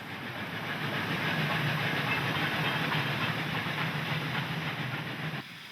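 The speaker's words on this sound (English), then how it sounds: "The massive loco now left the mountain section and swung round the sharp curve into George en route to Mossel Bay" A massive South African Railways GEA Class Garratt steam locomotive runs on the line near George, a loud continuous rumbling roar with hiss that stays steady and then drops off sharply at the end.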